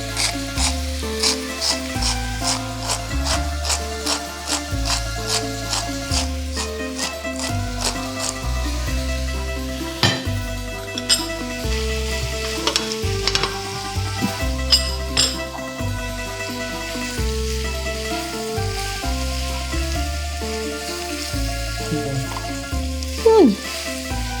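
Meat sizzling steadily in a pan for a polenta meat sauce, a continuous frying hiss with occasional clinks and stirring scrapes, close and fairly loud throughout.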